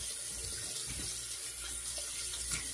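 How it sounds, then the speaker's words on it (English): A disposable razor rinsed under a running bathroom tap, giving a soft, steady splash and trickle of water that continues evenly, fairly quiet, with no voices. "So we're gonna give it a rinse"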